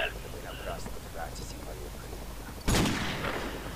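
A single loud gunshot cracks out near the end in the Modern Warfare Remastered campaign mission The Hunted, and its echo trails off over quiet, steady game ambience with soft low chatter before it.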